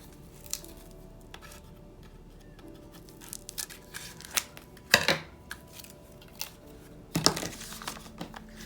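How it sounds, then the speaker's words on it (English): Scissors snipping open packaging, a few sharp crisp cuts among soft rustling and crinkling, close and quiet, with no talking. "And snip it to get it open."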